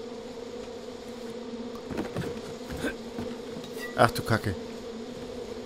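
A steady droning buzz of wasps or hornets in Far Cry 5, constant and close, with a few short sharp knocks and a brief spoken remark over it.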